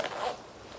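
A zipper runs on a long red raincoat, a soft brief rasp up close, fairly quiet, followed by faint rustling.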